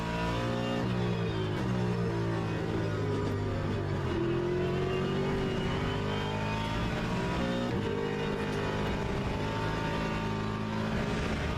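Ford Mustang LMGT3 race car engine at Spa in a racing video game, a loud continuous engine roar with shifting revs, upshifts and throttle changes sustained throughout.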